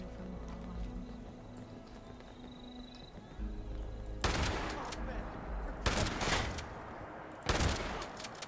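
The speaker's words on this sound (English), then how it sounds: "Wow, the shotgun doesn't work very far range, does it?" Shotgun blasts in Fallout 76, three loud sharp bursts spaced a couple of seconds apart after a quieter stretch of game ambience and faint voice.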